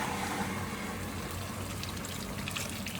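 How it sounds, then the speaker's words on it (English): Water pours steadily from a kettle into a pot of Thai curry, a continuous close splashing and trickling stream that runs unbroken with no talk. "we're going to add some water to it"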